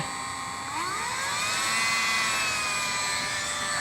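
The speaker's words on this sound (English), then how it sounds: "So we're gonna do some scuffing and see how it goes." A battery-powered Dremel-style 8220 rotary tool scuffs a Poison Spyder Bombshell differential cover, producing a steady, close, high whine that rises in pitch as it speeds up and then holds, with no talking.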